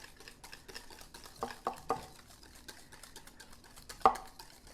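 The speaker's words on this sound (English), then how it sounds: "we're just going to kind of whisk that together with the vinegar and the mustard and the sugar" Greek yogurt whisked with vinegar, mustard and sugar for Southern coleslaw, quiet stirring with a few louder clinks of the whisk against the bowl.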